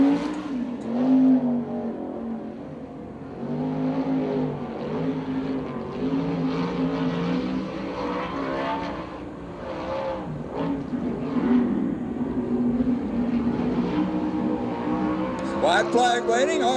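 A USAC/CRA sprint car on a qualifying lap at Phoenix: a loud, sustained engine roar with rising and falling pitch through the turns, heard under continuous announcer commentary.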